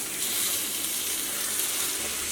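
Tomatoes added to a hot pan for Kerala chicken biryani masala, sizzling and frying in a steady, loud, close hiss throughout.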